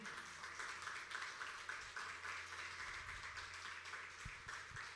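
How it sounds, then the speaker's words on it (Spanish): A church congregation applauds during a sermon, a faint, steady wash of clapping heard from a distance. "Vamos a darle un aplauso al Señor allí."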